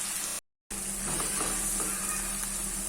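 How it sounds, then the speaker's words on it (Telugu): Prawns with raw mango sizzle and fry steadily in a pan for a raw mango prawn curry, a close, continuous hiss broken by a brief gap of silence near the start. "ఫ్రై అవనివ్వండి."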